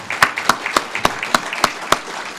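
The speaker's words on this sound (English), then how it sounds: "let's have a round of applause" Sharp, evenly spaced claps, probably from a small audience at a tribute celebration event, ringing out close and steady for a couple of seconds.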